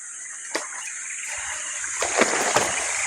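Water splashes and sloshes in a few scattered bursts over a constant rushing flow, with no voices.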